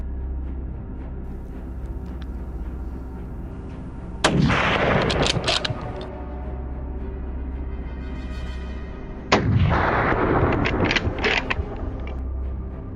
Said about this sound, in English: Some were quite far away, but I still took the shot, sending the herd fleeing in panic.